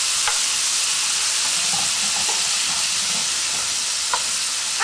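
Pears fry in a pan in butter, producing a loud, continuous close sizzle with faint stirring clicks throughout and no voices.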